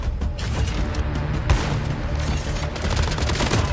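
M13 rifle in the Call of Duty Mobile video game firing rapid bursts, loud close repeated shots coming in quick succession throughout with a heavier crack in the middle.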